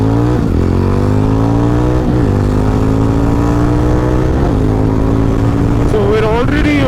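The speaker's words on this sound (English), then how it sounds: "let's take a look at the acceleration of the motorcycle" A Jawa 350 motorcycle pulls away from a near standstill and accelerates hard through several gears, its loud engine note climbing steadily, dropping briefly at each shift, then rising again, with no talk.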